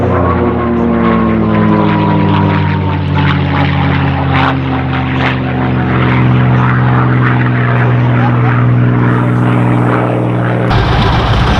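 A P-51 Mustang propeller fighter roars past at an air festival, its piston engine droning loudly and steadily throughout with a slowly shifting pitch.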